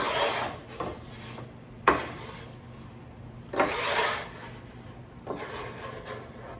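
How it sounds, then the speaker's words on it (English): A utensil scrapes diced onions off a cutting board into a bowl for salsa in several separate rasping strokes, close and fairly loud with short pauses between. "Scrape all that into our bowl."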